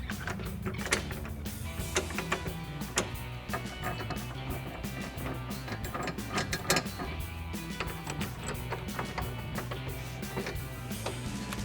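Ratcheting clicks from a socket wrench driving 5mm Allen bolts into clamp blocks while installing a hard tri-fold tonneau cover on a 2022-2024 Toyota Tundra, with repeated close mechanical clicking bursts and metallic taps throughout.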